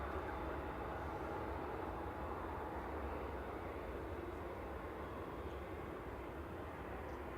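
An Airbus A320 arriving at Manchester Airport, heard as a faint, distant, steady broadband jet roar that stays even throughout without distinct peaks.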